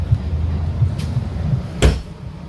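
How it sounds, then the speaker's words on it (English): A travel trailer door thuds shut nearby with a single solid knock, preceded by a faint click, over a low steady rumble. "Gotta shut the door behind me because it's hot."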